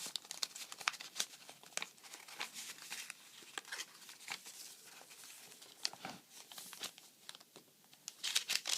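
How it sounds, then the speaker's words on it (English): Sheets of coffee-stained notebook paper crinkle and rustle as they are handled, quiet close-up crackles in an irregular stream with no voices. "Notebook paper."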